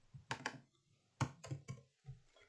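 Short bursts of computer keyboard typing, a few close, crisp key clicks in small clusters with quiet pauses between them.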